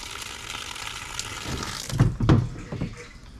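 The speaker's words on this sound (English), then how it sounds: "The hose has to fill up." Water rushes from a hose into a tank at an off-grid tiny house, a steady splashing hiss that turns into louder gurgling bursts toward the end.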